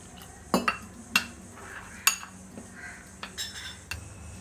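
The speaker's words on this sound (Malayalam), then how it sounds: "അതിലേക്ക് ഇത്തിരി വെള്ളം ഒഴിച്ച് കുഴയ്ക്കാം." A spoon clinks and scrapes against a metal dish while chilli, coriander and turmeric powders are mixed with water into a paste for a Kerala fish curry, in a series of light, close, irregular taps.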